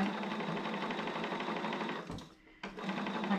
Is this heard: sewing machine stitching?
yes